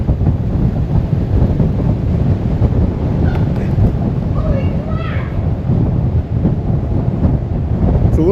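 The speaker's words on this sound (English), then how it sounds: "It's a little bit windy in the tunnel." Steady rushing wind buffeting the microphone in a tunnel on a bike ride through the Columbia River Gorge, loud and constant throughout, with faint distant tones drifting in and out.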